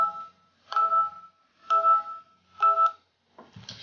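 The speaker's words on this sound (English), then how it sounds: "And then my phone is going off." A phone alarm beeps in four short, evenly spaced electronic bursts against near silence.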